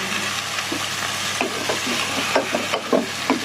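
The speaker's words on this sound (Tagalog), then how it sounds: "pwede na natin ilahok ang ating ginayat na sayote. Gisa natin yan." Sliced chayote being sautéed in a pan, with a steady sizzle and frying hiss punctuated by scraping, clattering stirs of a utensil against the pan.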